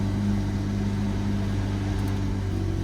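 A tuned Hyundai Elantra N with a stage 2 tune idles steadily just after starting, a constant low engine hum with a smooth, even drone and no talking.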